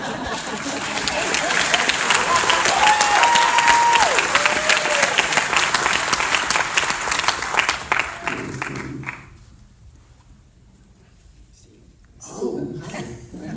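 Loud, sustained applause fills the room at a Q&A for the film I, Tonya, then fades out after about nine seconds into near quiet, followed by a speaking voice.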